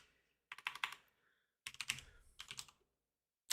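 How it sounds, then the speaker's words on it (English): Bursts of rapid clicking keystrokes on a computer keyboard, two close clusters separated by a short pause, crisp and near with no speech. "I've got to manually type it in actually."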